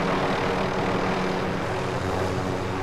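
Helicopter flying in the video game Call of Duty: Warzone, a constant, loud droning rotor and engine hum with no breaks across the whole stretch.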